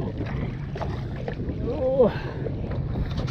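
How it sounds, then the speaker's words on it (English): Steady wind buffets the microphone with a low roar throughout, and a person briefly exclaims partway through. "You can hear how windy it is."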